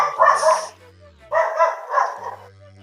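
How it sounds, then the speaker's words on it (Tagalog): Dogs bark at night around a rural house in Alaminos, Pangasinan, with a few close, sharp barks in two or three bursts and a low whine between them. "So, ingay ng mga aso dito."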